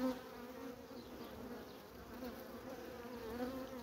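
A dense, continuous buzz of many honey bees close by at an opened hive colony with capped brood in February, with no voices.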